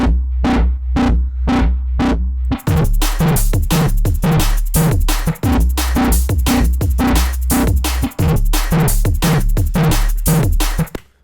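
Heavy drum and bass synth bass from a Vital preset pulses with punchy kick drums in a steady, driving rhythm; sparse at first, then denser with snappy hits and gritty saturated high end, loud throughout.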